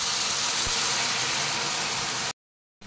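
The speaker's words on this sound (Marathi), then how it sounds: "आता आपण भातामध्ये गरम पाणी घालणार आहे," A loud, steady hiss and sizzle of hot water poured into rice frying in a pan for jeera matar pulao, continuous for a couple of seconds before cutting off abruptly.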